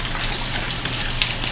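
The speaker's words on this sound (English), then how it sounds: "Wash my hands." Hands washed under a running kitchen tap during home baking, a steady close wash of flowing water with a few splashy spikes, no talking.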